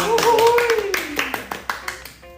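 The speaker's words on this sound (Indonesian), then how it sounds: "Tepuk tangan dulu teman-teman" A few scattered hand claps from a small group on a sociology student-association podcast at an Indonesian university, starting under a speaking voice and continuing as separate sharp claps afterward.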